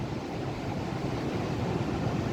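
Rough, cold sea surf washes against the shore in a steady, dense roar, with gusts of wind mixed into the broad noise and no voices.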